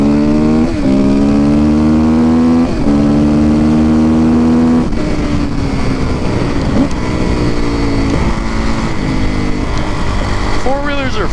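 A Kawasaki KX450F dirt bike engine, loud and near, with repeated rising revs and shifts during a ride while a voice talks over the steady motor noise.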